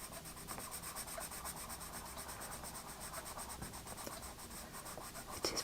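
A Derwent red coloured pencil rubs across paper in steady, close, soft scratchy strokes, laying down a coat of colour with no speech.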